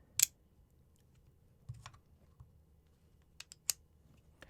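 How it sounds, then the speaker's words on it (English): A Falcam Maglink magnetic strap quick release snaps into its cradle with crisp, close clicks, a few sharp taps spread apart amid near silence. "There's a little magnet right in here that allows it to click in."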